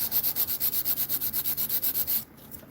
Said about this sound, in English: I'm using the 80 grit on the back side here